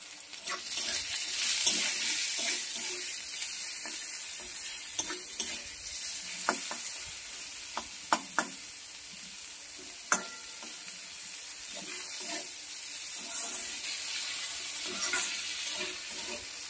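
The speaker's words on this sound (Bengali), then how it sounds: "অল্প লবণ দিয়ে পেঁয়াজটাকে নরম করে নেব আগে।" Thinly sliced onions softening with salt in oil, a steady, bright sizzle filling the whole stretch with occasional soft scraping taps from the stirring spoon, close and continuous with no talking.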